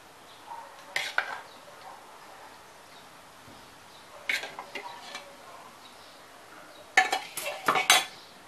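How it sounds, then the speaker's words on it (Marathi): Cooked goat heart being spooned from a pan into a serving bowl, heard as close metallic clinks and scrapes in three short bursts separated by quiet pauses. "मी आता एका ह्या सर्विंग बाउलमध्ये काढून घेते."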